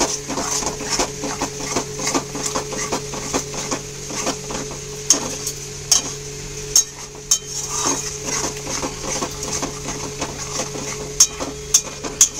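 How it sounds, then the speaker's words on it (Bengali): Chicken curry with tomato paste sizzles steadily in a pan while a spoon stirs it, with repeated metallic scrapes and clinks against the pan over a constant frying hiss. "টমেটো পেস্টটা দিয়ে দিলাম। এবার এটা দিয়ে ভালো করে কষবো।"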